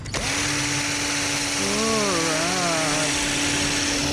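A power tool fitted with a steel wire brush whirs steadily while cleaning a part from a Yamaha Mio Gear 125 scooter, its tone bending as pressure changes, loud and close throughout.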